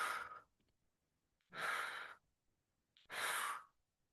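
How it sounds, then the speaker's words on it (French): Alternate nostril breathing exercise, three slow, deliberate breaths heard up close, each a soft airy rush through the nose lasting about half a second, separated by near silence. "Respiration alternée"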